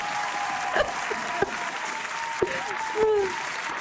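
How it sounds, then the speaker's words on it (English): Audience at a comedy show applauding in a long, steady wash of clapping that goes on for several seconds without fading, with a few sharper individual claps standing out. "It's a long applause that goes on for a while."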